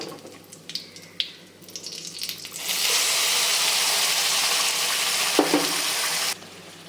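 Water poured from a rinsed grinder jar into a simmering coconut curry, a loud steady rushing splash lasting several seconds after a few light clinks and bubbling, then cutting off abruptly.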